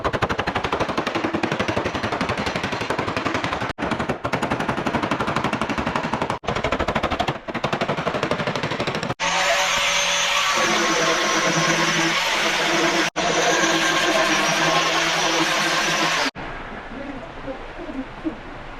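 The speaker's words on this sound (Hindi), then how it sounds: "खाली हम ग्राइंडर यूज़ करेंगे क्वार्टर पैनल के ऊपर" A grinder smoothing file marks on a Toyota Innova quarter panel in a body shop, a loud continuous rasping roar with brief stops and restarts, then a quieter tail near the end.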